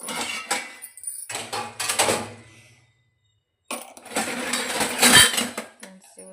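Dishes being washed clink and clatter in short bursts, with rattling metal and scraping, broken by a brief silent pause before more clanking resumes.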